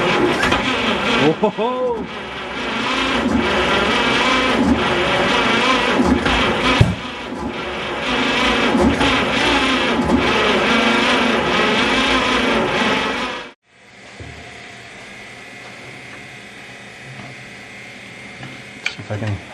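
A seized 1951 Chevy pickup engine cranks on a booster and fires, a loud continuous mechanical roar with a rising whine that cuts out abruptly, leaving a quieter idle-like rumble; a man exclaims briefly.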